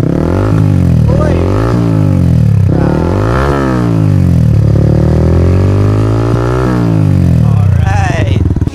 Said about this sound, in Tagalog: diba narinig nyo naman kung gaano ka-solid yung tunog guys